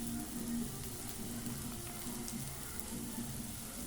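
Bread masala mixture frying in a kadai, a faint, steady sizzle and crackle of hot oil with a low background hum, continuous and undisturbed, no voices.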